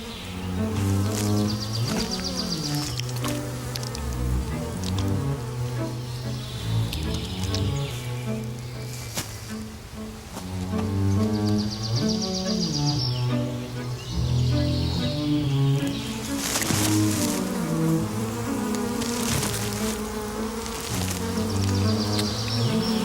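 A dense swarm of bees drones loudly around a beehive, a continuous buzzing hum that wavers in pitch and intensity throughout, alone with no voices.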